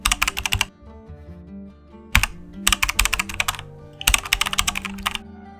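Rapid keystrokes on a computer keyboard enter a name while setting up a Gmail account, coming in three quick bursts separated by short pauses, close and fairly quiet, with no talking.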